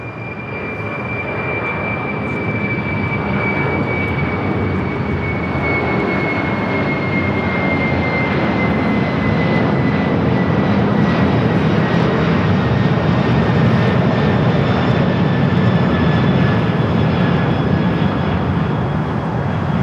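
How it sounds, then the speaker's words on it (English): Western Global Airlines Boeing 747-400 converted freighter taking off from Los Angeles, a loud, sustained jet roar with a whining tone that slowly falls in pitch, building slightly and holding steady, with no talk. "Western Global Airlines 9781 taking off to Sacramento on the 747-400 converted freighter."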